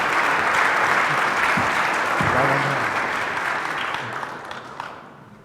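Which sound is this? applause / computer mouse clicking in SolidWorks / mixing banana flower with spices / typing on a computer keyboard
applause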